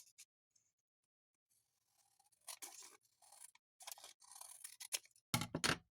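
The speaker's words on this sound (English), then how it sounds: "maybe the whole page might want to trim off just a little bit here" A blade cuts through a book page being trimmed for a junk journal, a few quiet, crisp snips and paper rustles in an otherwise hushed room.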